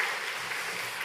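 A church congregation applauds together, a steady, dense wash of clapping that stays even and fairly loud throughout with no talk over it.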